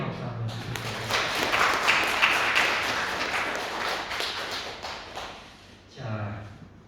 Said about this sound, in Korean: 이분들에게 환영의 박수 한번 드립니다